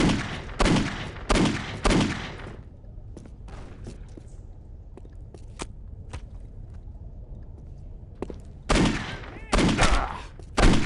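Gunfire in Postal 2 comes as several loud, close shots in quick clusters, then a quieter stretch of scattered clicks and faint pops before more shots burst out at the end.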